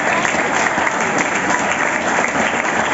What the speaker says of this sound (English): give you a big round of applause and that, and keep it going